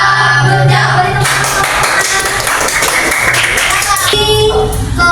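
Classroom applause in an Indonesian school lesson, a burst of hand clapping from students lasting several seconds under talking voices and background music.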